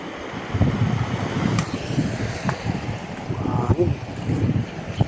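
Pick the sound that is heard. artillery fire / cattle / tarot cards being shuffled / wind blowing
wind blowing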